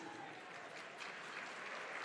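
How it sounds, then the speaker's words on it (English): Guests at the 62nd Annual Black & White Ball and Business Awards applaud a dean being introduced. The clapping is faint and distant, a soft, even wash of many hands across the whole stretch. "Give him a round of applause, please."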